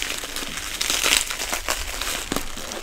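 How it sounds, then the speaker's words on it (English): Crinkling and crumpling of packaging tape being torn and pulled on a parcel, a dense, continuous rustle with brief louder rips, close and fairly loud, no talking. "Y'all are gonna have to watch me fight with tape after all."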